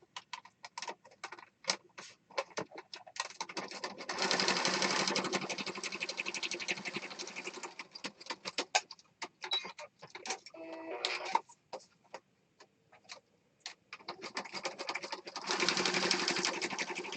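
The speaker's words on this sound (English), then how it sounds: "I'm going to sew across here and then down this edge" A sewing machine stitches across a mixed media craft project in bursts of rapid, even mechanical clatter, with short pauses between runs and longer steady stretches, close up and alone.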